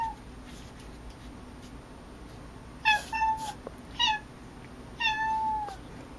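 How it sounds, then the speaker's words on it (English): A house cat meows three times in a row while a television plays, each cry close and distinct, with quiet gaps between them. "And his cat meowed as he watched TV."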